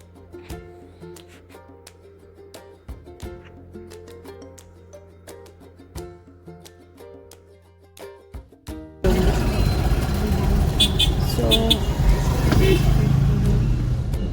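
Busy road traffic with cars and motorbikes: someone talks over a quieter stretch, then a sudden loud, steady roar of passing vehicles takes over and continues to the end.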